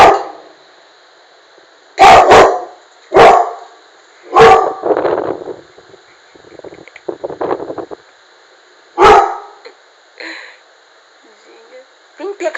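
Several loud, sharp dog barks at its own reflection in a mirror come in scattered bursts, some doubled, with quieter yips and whimpers between them and a person talking in the background.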